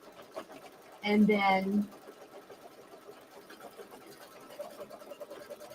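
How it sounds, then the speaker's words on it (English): A single-needle embroidery machine stitches a fabric placement line on a mini-quilt block, a short steady mechanical whir up close, followed by a quiet room with a brief spoken remark at the start. "you want to go ahead and stitch the next stitch, which is the fabric placement line."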